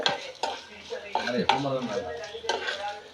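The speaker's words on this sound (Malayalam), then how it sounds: "തേങ്ങ നമ്മൾ ശരിക്ക് ബ്രൗൺ കളറാവുവോളം നമ്മൾ വറക്കണം" A metal spoon scrapes and clinks repeatedly against a pan while grated coconut is stirred and roasted until brown, with a light sizzle beneath the irregular, fairly close strokes.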